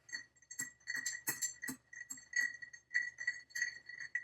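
Barspoon stirring a cocktail with orange and chocolate bitters in a mixing glass, a steady run of light glassy clinks and ice ticks at close range, quiet and alone.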